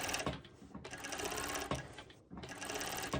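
A sewing machine stitches a sporty knit top at a brisk pace, a close, steady rapid mechanical whirring in short runs with brief pauses between them.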